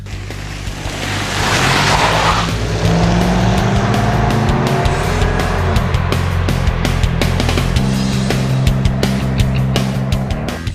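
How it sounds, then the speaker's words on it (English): A 2013 Ram 1500 pickup with a 395-horsepower Hemi V8 accelerates hard from 0 to 60 mph, engine roar rising steadily and loudly with gear changes, dominating the whole stretch without speech. "And best of all, it's a Hemi that puts out 395 horsepower and 407 pound-feet of torque, which means it's almost identical to Nathan"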